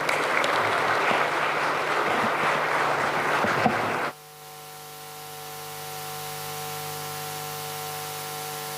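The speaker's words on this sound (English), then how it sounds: "welcome His Excellency the President to give us his vision with a round of applause" A conference audience at a high-level Kenyan foreign policy forum gives sustained applause welcoming the President. It runs for about four seconds, then stops abruptly, leaving a faint low hum.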